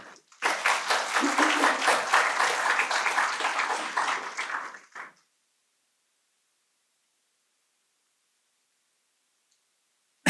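An audience at an evening lecture claps warmly to welcome the speaker, a dense burst of applause lasting about five seconds that then stops abruptly into silence.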